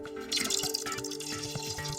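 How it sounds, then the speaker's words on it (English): Molten iron being poured into water sizzles and spatters in short bursts, with crackling drips and splashes over a steady background hum. "As the iron hits the water"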